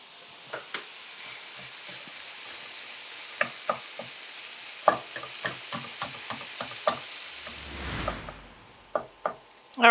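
Sausage sizzling in a pan on the stove, a steady hiss under repeated utensil knocks and scrapes as it is stirred, the taps irregular and close, ending with a few sharper clacks.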